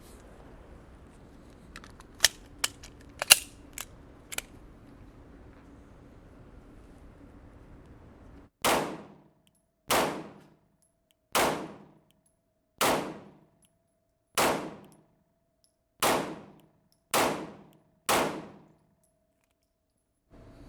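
Pistol fire from a 1911 and a Glock ringing off steel targets: a few quick sharp shots, then a slow steady string of about nine loud cracks with ringing metallic clangs, evenly spaced and each decaying briefly.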